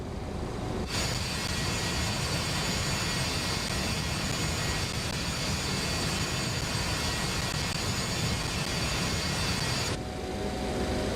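Super 27 jet airliner taking off in Microsoft Flight Simulator 2024, a steady, loud, broadband engine roar with no breaks that holds constant for about nine seconds and then cuts back slightly at the end.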